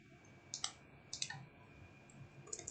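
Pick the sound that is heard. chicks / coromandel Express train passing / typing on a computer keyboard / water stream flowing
typing on a computer keyboard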